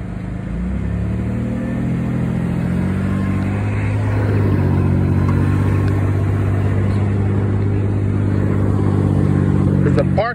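Chevy Impala engine revving steadily with a loud low drone while the car strains to back up with the emergency brake on, close and continuous for about ten seconds.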